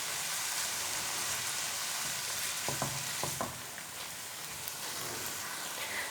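A chicken malai mixture of fresh cream and milk is stirred in a pan under a steady hiss, with a few soft scraping knocks near the middle and no talk.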